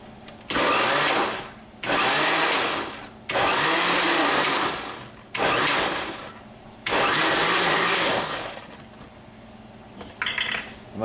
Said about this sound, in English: everything goes right in the blender